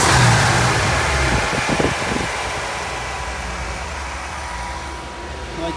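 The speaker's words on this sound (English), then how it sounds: "You can hear that 351 Windsor Ford Racing." Ford Racing 351 Windsor V8 idling in a custom 1958 Ford Ranchero with a carburetor and an extra cooling fan; a steady, close mechanical rumble and fan whir, with a short burst of throttle near the start.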